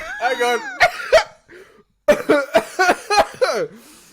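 Several sharp, close coughs in quick succession between stretches of talking on an online call; a voice speaks before and after the coughing.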